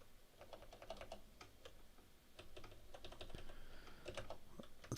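Irregular bursts of keystrokes on a computer keyboard while typing out Russian words, close and fairly quiet, with a sharper clack right at the end.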